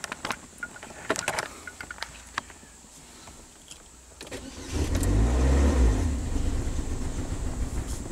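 A Chevy HHR engine cranks and catches with a rising rumble, preceded by scattered clicks and knocks, then settles into an uneven running drone before stalling, a start-stall fault.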